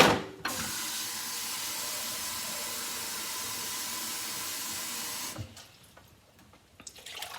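Chicken broth seasoned with celery, onion and a stick of butter bubbles in a pan, giving a loud, steady hiss for several seconds that stops abruptly, followed by quieter clinks and kitchen noise.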